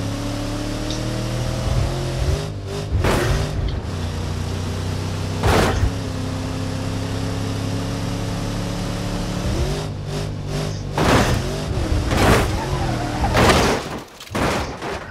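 An Ibishu Diadem 4.0 GTC with a broken engine in the game BeamNG Drive gives a low, steady mechanical drone with shifting tones, broken by several sharp loud bangs and brief bursts.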